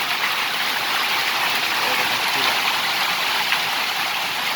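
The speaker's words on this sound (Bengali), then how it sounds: "দেখেন টিন থেকে টপকে টপকে যাচ্ছে, শিলাগুলা পড়ছে বাইরে" Hailstones and streaming rainwater on a tin roof make a loud, dense, unbroken roar that holds steady throughout, with no distinct individual impacts standing out.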